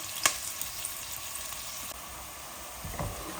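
Onions sizzle steadily in a pan as they turn golden brown for chicken biryani, a soft continuous crackle with a few sharper pops, close and fairly quiet with no voices.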